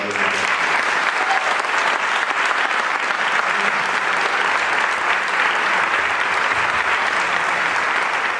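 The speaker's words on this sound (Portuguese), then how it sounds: "O merecen que lles damos un fortísimo aplauso allá." Strong, sustained applause from the audience at the closing event of the Galician political group Marea Atlántica, an even, dense wash of clapping that stays loud and unbroken throughout.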